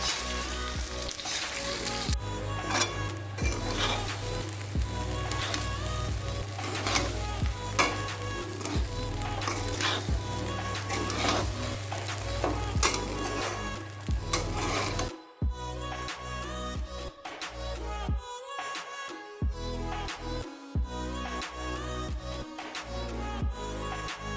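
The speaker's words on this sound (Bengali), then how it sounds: "ফুলকপি ভাজা হচ্ছে" Cauliflower sizzles and crackles steadily in a hot pan, a continuous frying hiss that shifts and briefly thins near the end.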